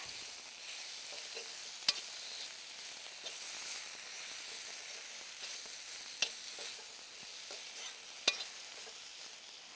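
Bitter gourd dish, just salted, stirred in a pan over a soft, even sizzle, with three sharp ladle taps against the rim standing out from the quiet frying.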